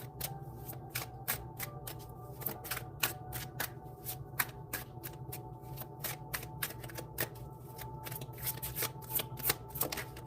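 A tarot deck shuffled steadily by hand, producing a rapid run of crisp card riffles and flicks over a low background hum, continuous for several seconds with no talking.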